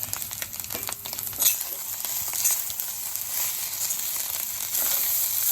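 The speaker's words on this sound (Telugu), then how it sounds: "ఫ్లేమ్ పెద్దగా పెట్టడం వల్ల రైస్ మంచిగా ఫ్రై అయినట్టు అవుతుంది." Egg fried rice sizzles and crackles over a high flame, a close, continuous fry with faint stirring scrapes and a brief louder burst partway through, no talk.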